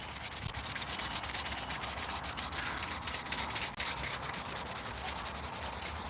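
Sandpaper rubs steadily across a wooden piece, giving a continuous, close, even scratching hiss with no pauses and no talk.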